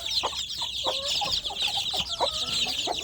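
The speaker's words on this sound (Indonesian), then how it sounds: "Anak ayam kampungnya" Village chicks cluck and peep continuously at close range while pecking at moistened feed, their overlapping calls forming a busy, steady chorus with no other sounds.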